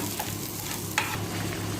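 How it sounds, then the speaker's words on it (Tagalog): A covered pot of chicken bubbles and sizzles steadily up close as it simmers, with a quick clink partway through. "Kumukulo-kulo na."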